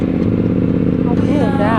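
Motorcycle ridden again after a long break, its engine running with a loud, close, uneven rumble, then rising whine-like revs near the end, with a voice briefly audible over it.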